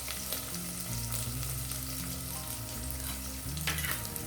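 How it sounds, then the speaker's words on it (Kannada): Ingredients sizzle steadily in hot oil in a pan for an ash gourd saaru, a continuous frying hiss with soft stirring and tuneful music playing underneath. "ಈಗ ನೋಡಿ, ಎಣ್ಣೆಯಲ್ಲಿ ಚೆನ್ನಾಗಿ ಫ್ರೈ ಆಗ್ತಿದೆ ಅಲ್ವಾ?"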